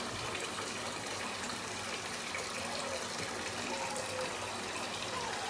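Running water gushes steadily from a tap or sprayer as an Aussiedoodle puppy about six weeks old is rinsed during a bath, a continuous close-up splashing hiss with no talking.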